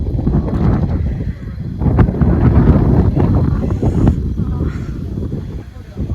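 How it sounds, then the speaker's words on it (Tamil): Strong wind batters a bamboo tree house near a reserved forest in Masinakudi, a loud, ragged roar of gusts buffeting the microphone that swells and eases throughout. "காற்று பயங்கரமாக இருக்கு."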